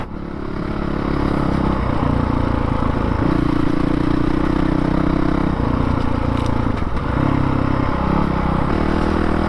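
A 2019 Honda CRF450L with an FMF full exhaust system drones loudly and steadily while ridden on an off-road OHV trail, its engine note shifting in pitch as the throttle changes, with no talking.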